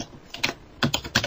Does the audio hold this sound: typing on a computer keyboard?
yes